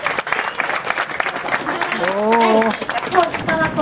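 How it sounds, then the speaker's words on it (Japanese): Audience applause at a youth cycling championship award ceremony for the under-17 and under-15 classes in Japan, steady clapping throughout while an announcer's voice speaks over it midway. "皆様拍手でお迎えください。"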